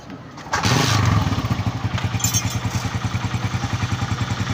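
A 2023 Honda CG125 motorcycle is kick-started close by: a thump and brief clatter as it catches, then the single-cylinder engine settles into a steady, rhythmic idle putter.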